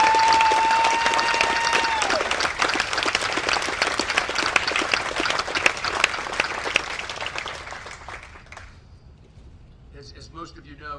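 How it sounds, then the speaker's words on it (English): Sustained applause from an audience at a military retirement ceremony for an Army lieutenant general, loud and dense for about eight seconds before fading out, with a voice starting to speak at the end. "So please join me in a round of applause."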